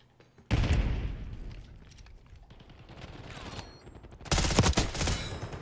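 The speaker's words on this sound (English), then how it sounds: "Tossing frag." Frag grenade blast in a Call of Duty match, a sharp loud burst near the start followed by rolling gunfire and another heavy explosive crack near the end, dense combat noise throughout.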